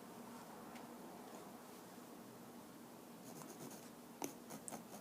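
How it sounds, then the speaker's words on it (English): A pen marks fabric against a ruler, giving quiet scratchy strokes with light rubbing and a few sharper ticks near the end, soft and close with no talk. "make a mark on the left and the right side"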